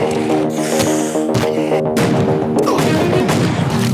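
Heavy blasts from a shotgun in the film Constantine boom out in several sharp reports over a dense, loud movie soundtrack with sustained tones underneath.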